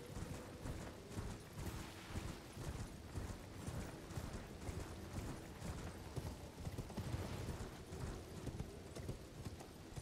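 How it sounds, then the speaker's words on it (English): A horse gallops in the video game Elden Ring, with rapid rhythmic hoofbeats pounding steadily for the full stretch, close and fairly loud over a dense rumbling game backdrop. "See, I see a man on a horse over there."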